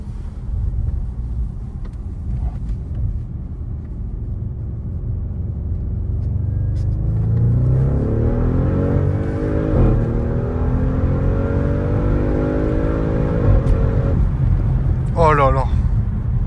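An Audi RS6 C7 Phase 1 quattro estate accelerates hard, its engine note climbing steadily from a low rumble into a rising, strained roar, close and loud, with people talking inside the cabin.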